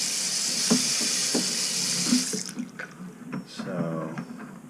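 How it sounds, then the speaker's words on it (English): Water runs with a steady hiss from a leaking Kohler bathroom sink faucet for a couple of seconds, then cuts off, leaving a few drips and light knocks as a voice speaks briefly. "We got water leaking out of here."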